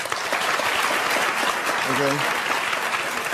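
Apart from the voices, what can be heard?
studio audience applause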